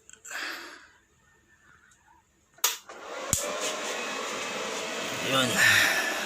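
A welding machine hooked to a car battery for charging gives a sharp crackling spark, then a steady electrical hum and hiss; someone speaks briefly before it.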